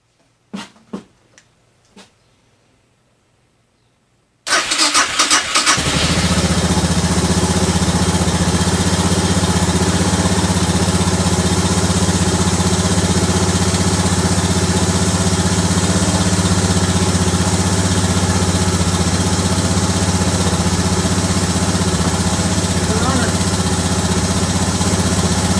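A 1996 Suzuki DR650 motorcycle fitted with new Mikuni carburettor parts starts after a few clicks and faint fumbling, then settles into a loud, steady single-cylinder idle that runs on unchanged.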